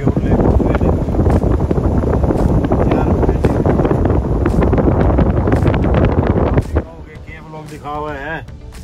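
Strong wind gusts roar over a wheat field in the countryside, loud and buffeting the microphone for several seconds before easing. A voice is heard faintly near the end.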